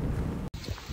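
Thunderstorm during a cyclone in Fiji, with heavy rain and rumbling wind close by in a constant wash, broken by a brief dropout midway.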